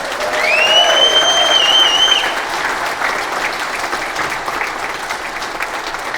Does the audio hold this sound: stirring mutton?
no